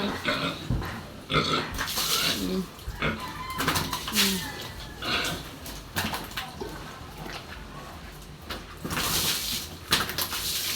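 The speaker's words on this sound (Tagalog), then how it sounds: "kami po ni Tilat ngayon lang magpapaligo ng baboy" Pet pigs in a pen at bath time, scattered grunts and snuffling noises with bangs and knocks against the enclosure, irregular and close.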